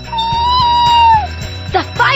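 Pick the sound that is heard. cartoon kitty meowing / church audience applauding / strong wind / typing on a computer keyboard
cartoon kitty meowing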